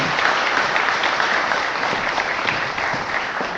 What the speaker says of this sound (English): So we can give a round of applause for the Senior Center for helping.